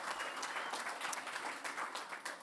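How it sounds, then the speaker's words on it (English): Faint applause from a fundraiser audience honoring clinic staff, many hands clapping in a continuous, slightly uneven patter heard from some distance. "give them a round of applause"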